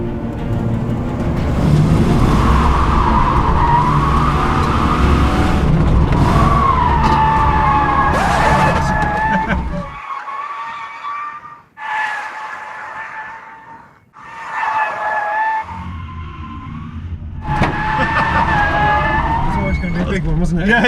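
A Nissan GT-R record car drifting on a track, with loud, sustained screeching tyre squeal rising and wavering over the engine, briefly dipping before resuming; no voices.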